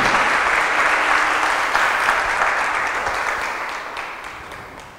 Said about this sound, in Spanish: Así que les pido un aplauso para estos músicos maravillosos.